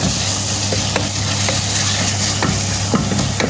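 Masala sautéing in a pan for green pea sundal gives a steady close sizzle, with a spoon scraping and stirring at intervals.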